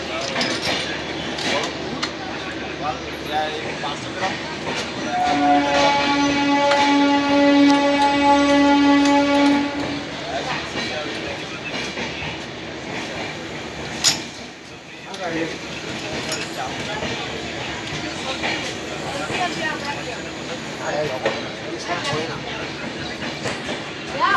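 The 13168 Kolkata Weekly Express stands at platform one of Dhanbad station, with a rumbling rail bed, a steady tonal horn-like drone for several seconds and metallic clinks amid platform bustle and voices.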